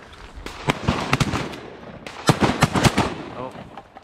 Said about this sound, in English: Oh, I shot at a hen.